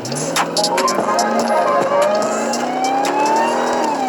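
A Jeep with all-wheel drive revs while driving, its engine note climbing steadily in pitch, loud and close, with no voices.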